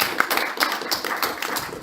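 Applause from an audience at a spring speakers forum, a dense, steady patter of many hands clapping close by, with no voices over it.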